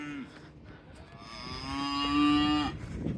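Cattle moo repeatedly while being sorted into pens for trailer loading on a farm, a long rising bellow standing out clearly among shorter lowing calls, with no talking.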